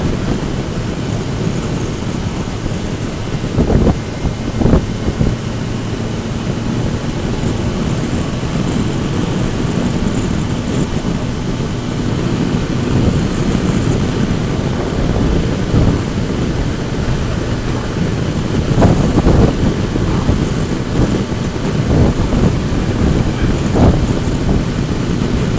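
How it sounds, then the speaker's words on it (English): Steady, blustery wind rumbles and buffets close to the microphone for a long stretch on a run in north Anglesey, with occasional louder gusts and thumps. "It's a little bit windy"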